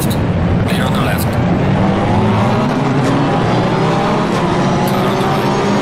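Race cars roar around Spa in the Assetto Corsa Competizione racing game: a loud, continuous engine drone with shifting pitch as the cars pass close by, and a voice may be faintly mixed in.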